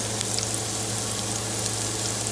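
Onion frying in a hot skillet, a steady dense sizzle with faint crackles, even and close, with no voices.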